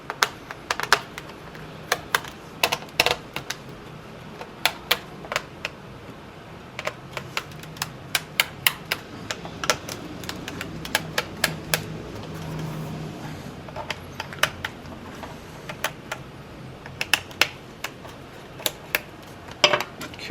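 Small plastic clicks and taps come from a Dell Inspiron 1525 laptop as its bottom cover is worked loose. The sharp, irregular, close-up clicks are spaced out over a low background hum.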